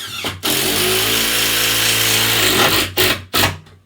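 A power drill drives screws through into a breeze block wall, one long loud whirring, grinding run followed by two short sharp bursts up close, with no talking.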